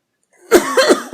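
A single close, sharp cough with a couple of quick bursts, standing alone after a moment of silence.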